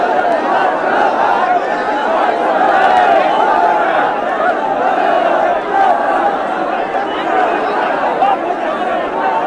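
A large crowd of young people carrying tricolour flags, a dense steady roar of many voices chattering and calling out at once, loud and close throughout.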